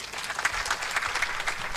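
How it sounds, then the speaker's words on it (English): Steady applause from an audience at a women judges' international association gathering, continuous clapping filling the hall at moderate level with no voices on top. "Let us give a round of applause"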